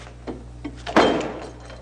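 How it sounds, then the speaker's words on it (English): A cell door swings shut with a solid thunk that follows a couple of light knocks, the impact close and ringing briefly before it fades. "When they come in, I close this door on them."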